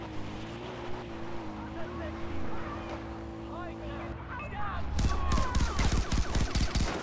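Rapid gunfire bursts in Far Cry 4 break out after a stretch of engine drone and game ambience, with loud close shots rattling in quick succession while someone talks over the action.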